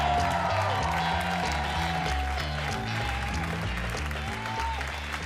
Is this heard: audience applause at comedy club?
yes